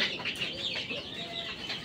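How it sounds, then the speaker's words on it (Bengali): A crate of one hundred month-old desi chicken chicks chirping and peeping in a dense, continuous chorus, close and fairly quiet, with no talking. "তো এখানে 100 মুরগির বাচ্চা আছে।"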